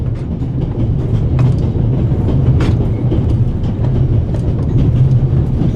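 A moving steam train in The Raven Remastered, crossing the Swiss Alps, rumbles steadily with a continuous low roll and faint rhythmic clatter of wheels, close and unbroken without any voices.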